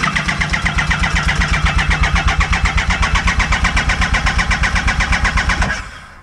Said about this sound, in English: So we got the coils unplugged. Crank her over.